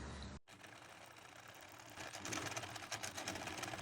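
A sewing machine stitches the inseam of linen wide-leg pants with a 1 centimeter seam allowance, a steady close rapid whirring hum that picks up speed partway through after a brief pause at the start.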